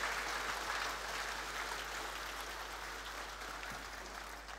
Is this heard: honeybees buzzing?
no